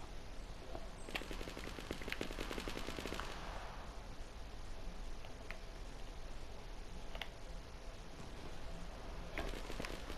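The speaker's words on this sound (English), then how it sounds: "These shots coming from all angles." Gunfire in the Fortnite video game crackles in rapid bursts, a dense automatic rattle early on followed by scattered single shots from various directions, steady and moderately loud against a constant background hum.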